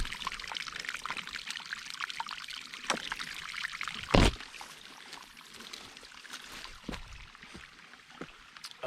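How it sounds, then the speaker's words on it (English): Spring water runs out of a forest hillside, filtered through rocks, giving a steady, faint trickle and pour with occasional louder splashes and one sharp spike partway through. "It comes out from the forest, gets filtered through rocks."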